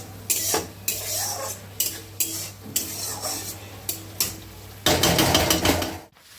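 Spice paste frying in oil in a pan for a village-style fish curry, stirred with a utensil that scrapes and knocks against the pan in repeated strokes over a steady sizzle, with a louder clatter near the end.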